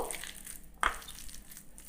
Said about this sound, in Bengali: এইবার সব কিছু দিয়ে ভালোভাবে মেখে নেব